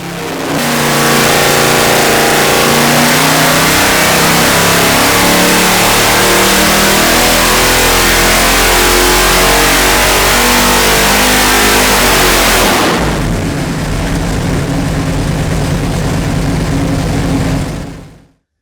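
Loud, powerful 454 V8 engine revving hard on a dyno, climbing steadily in pitch for about twelve seconds, then dropping off into a rough, throaty wind-down.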